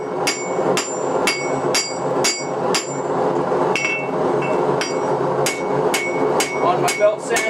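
Forging a dagger, a hammer repeatedly strikes the blade's bevel on an anvil, giving sharp ringing metallic blows in a fairly regular rhythm, close and loud, with some low background noise between hits.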